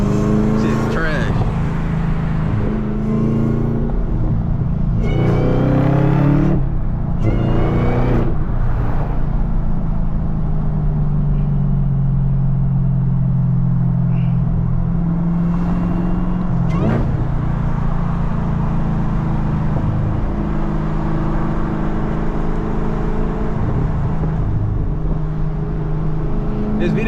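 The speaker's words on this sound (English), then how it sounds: "POV driving the Camaro ZL1 manual" A Chevrolet Camaro ZL1 with a six-speed manual gearbox drives through a small town, its engine droning loud and close and rising through revs, with a voice talking over it early on.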